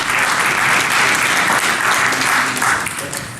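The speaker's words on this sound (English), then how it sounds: "Clapping before I begin." Audience applause at a Black Hat 2013 security conference talk, a dense steady clapping from a large crowd that holds loud for about three seconds before starting to thin out. No speech is heard.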